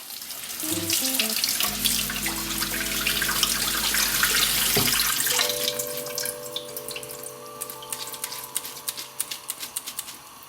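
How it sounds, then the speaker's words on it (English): Tap water runs into a sink as fish is rinsed in a sieve, a steady rushing stream for about five seconds with clinks and knocks at the start, then dripping and light handling sounds once the flow stops. "Firstly, start off by rinsing the fish. You can use a sieve to drain out the water."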